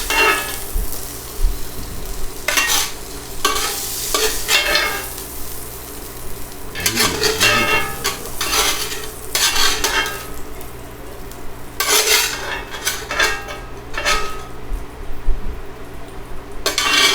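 A spatula scrapes and turns Philly cheesesteak meat frying on a griddle under a bun, with steady sizzling, scraping strokes and a few metallic clinks.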